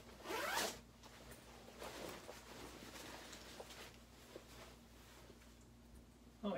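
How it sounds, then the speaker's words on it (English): A green cosplay coat's zipper is pulled all the way down, first with a quick loud rip and then with a softer, longer run of small ticks, all close up and alone in a quiet room. "Zips all the way down."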